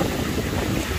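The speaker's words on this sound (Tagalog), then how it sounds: "grabe po ang lakas ng alon ngayon" Strong wind buffets the microphone over rough waves at Manila Bay, a loud, continuous roar of wind and surf filling the brief moment with no voices.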